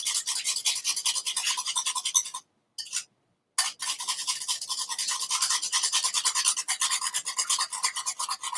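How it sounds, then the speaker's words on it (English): A whisk beats egg yolks in a bowl, fast rhythmic scraping strokes close up, broken by a brief pause partway through. "I'm whisking up some egg yolks."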